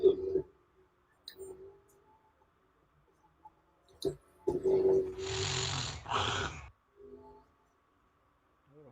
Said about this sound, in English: Who the fuck is snoring?